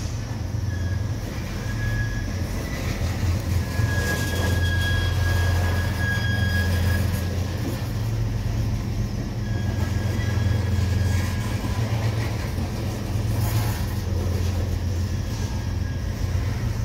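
A southbound CSX freight train creeps along the tracks, its low rumble and clanking steady and fairly near, with drawn-out metallic wheel squeals rising and fading throughout.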